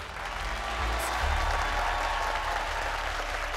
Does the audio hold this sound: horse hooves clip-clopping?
no